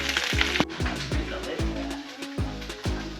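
Hot oil sizzles steadily in a pan on a home stove, a continuous crackling hiss punctuated by regular rhythmic clicks, with faint voices nearby.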